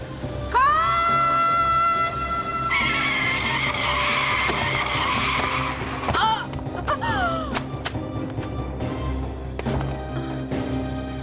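A car's tires screech in a long, loud skid, followed by sharp thuds of impact and scattered clatter in a dramatic street scene.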